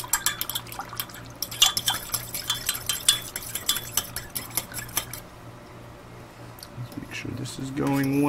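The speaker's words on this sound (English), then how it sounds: "Sprinkle, sprinkle. Then we stir." A utensil stirs instant noodles in red wine bolognese sauce in a pot, making repeated scraping and clinking strokes with wet, sloppy sounds, close up, joined by a voice and a louder clatter near the end.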